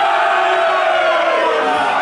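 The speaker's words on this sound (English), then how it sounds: "there's a cheer now." A large football stadium crowd of about 41,000 at a Sunderland versus Portsmouth league match roars and cheers in a loud, sustained, dense wash of voices.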